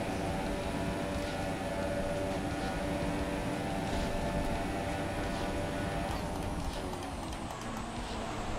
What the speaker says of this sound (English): Look at this train.